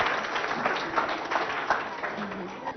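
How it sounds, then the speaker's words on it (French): A crowd at a school competition claps in a dense, ongoing patter while a voice speaks over the applause in French. "Applaudis très très fort pour les deux."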